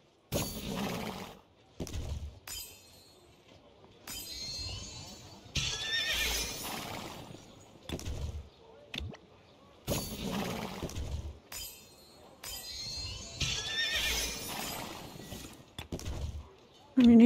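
Horses in a medieval strategy video game whinny repeatedly in several separate bursts, with hoof clip-clops and some clinking between them, and brief silent gaps.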